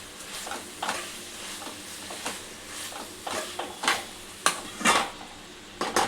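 Gongura chicken stirred in a pan after salt is added: quiet background sizzle with a series of scraping, clattering stirring strokes at irregular intervals.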